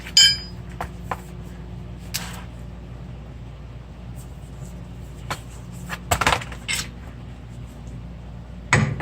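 Rubber hammer tapping a rear bushing into a 2011 Mitsubishi Lancer Ralliart AWD: a few scattered sharp knocks spaced seconds apart, faint and near, with quiet workshop background between.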